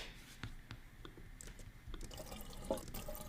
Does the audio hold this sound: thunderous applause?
no